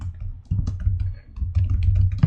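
Rapid typing on a computer keyboard, close and fairly loud: a steady stream of quick plastic key clicks with brief pauses, over a constant low hum.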